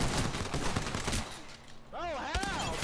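Repeated shotgun blasts from an Apex Legends Peacekeeper ring out in a busy fight, rapid crackling reports mixed with game effects and a warbling tone near the end, with a player talking over it.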